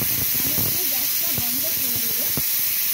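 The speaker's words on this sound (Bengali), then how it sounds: "এই দেখুন চারটে সিটি পড়ে যাচ্ছে" Pressure cooker letting off steam while mutton biryani cooks, a continuous loud hiss of escaping steam with a voice talking faintly underneath.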